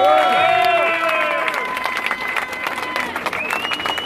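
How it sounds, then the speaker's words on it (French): A street protest crowd of Yellow Vests in Toulouse applauds imprisoned comrades: dense clapping and cheering builds over a fading whistle or siren-like tone, with voices shouting in the crowd, loud and close. "je demande à tout le monde, s'il vous plaît, de faire un applaudissement pour tous nos copains prisonniers"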